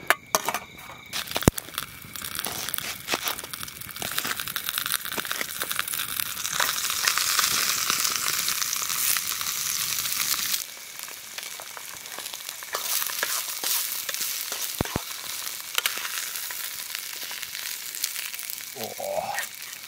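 Onion and mushroom fry in oil at a canoe campsite in the Australian bush, a steady close sizzle that drops to a quieter crackle partway through, with occasional clinks of stirring.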